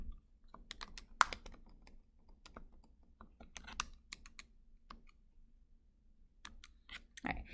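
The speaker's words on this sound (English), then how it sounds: "I can't type in my calculator." Quiet clicks of fingers pressing calculator keys, irregular taps and small bursts spread across the stretch, with no other sound around them.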